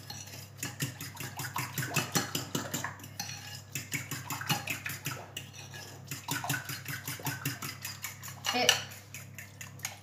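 A spoon or whisk clinks steadily in a bowl, mixing an egg filling with basil and oregano for a bacon tart (tarte aux lardons). The rhythmic scraping and tapping comes from close by, with a faint voice now and then.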